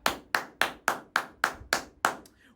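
Eight sharp, evenly spaced hand claps from a single person, crisp and close with a short decay after each, then a faint trailing tap at the end.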